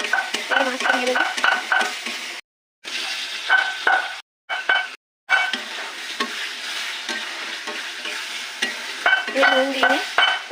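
Fish goes into a frying tomato masala, a close, busy sizzle with steady stirring and scraping strokes, interrupted by a few brief moments of dead silence, with no voices.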